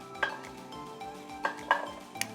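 Chopped carrots tipped into a pot of frying veg pulao, with a few sharp metallic clinks and scrapes of a spoon against the pot over a faint, steady sizzle.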